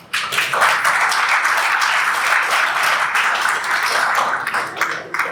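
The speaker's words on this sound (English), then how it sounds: "Let's give a round of applause." A pitch-night audience claps steadily and densely for several seconds, a broad wash of applause that holds its level, then tapers slightly at the end.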